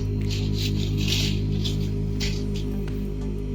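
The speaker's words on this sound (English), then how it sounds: "so we have to grind all the pieces" Small silver toe ring pieces being ground smooth, a steady rasping, scraping rub in repeated strokes over a constant low machine hum, close and without speech.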